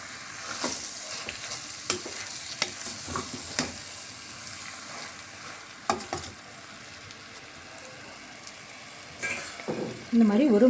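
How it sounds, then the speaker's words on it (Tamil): Mushrooms fry in a pot for mushroom biryani and are stirred now and then, with a soft continuous sizzle broken by occasional scraping and clanking strokes and a louder clatter near the end. "காளானை சேர்த்து நல்லா கிளறி விட்டு ஒரு 5 நிமிஷம் மூடி போட்டு வேக வச்சுருங்க."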